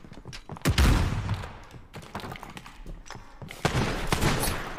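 Video game gunfire: heavy shots and bursts ring out in a rapid volley, with loud booming reports near the start and again toward the end, and little or no talk over them.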